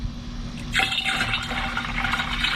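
Liquid fertilizer concentrate pours into an Ortho Dial N Spray hose end sprayer bottle holding a little water, a close, steady splashing gush that starts abruptly and runs on without talking.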